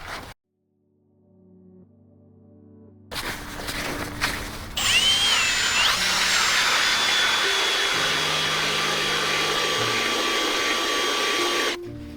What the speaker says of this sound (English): it does a great job of taking stress off of the drill, but gosh, are the holes slow